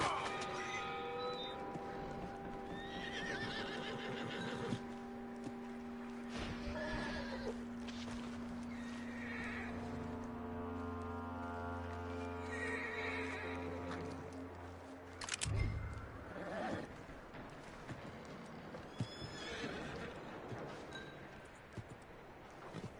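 A horse in the video game Red Dead Redemption 2 whinnies, with harmonic neighing that carries over steady ambient game sound for much of the span, then shifts to softer hoof and movement noises.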